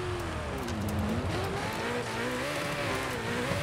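A car driven on dirt in the racing game Forza Horizon 5 with traction control off, its engine revving steadily and rising and falling in pitch over gravelly tire noise, loud and close throughout.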